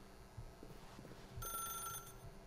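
A telephone rings in the video game The Stanley Parable, a single bright electronic ring burst partway through, preceded by soft footsteps and quiet room tone.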